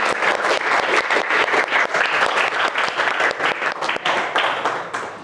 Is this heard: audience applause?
yes